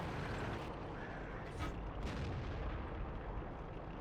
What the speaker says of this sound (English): Take a few more shots at some of these guys that are in the open, see how good this gun is at range.